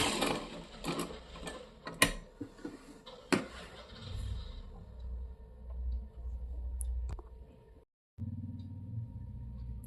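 A sewing machine stitches trousers: first a spell of irregular clicks and taps as the fabric is handled, then a steady close motor whir that stops briefly and starts again.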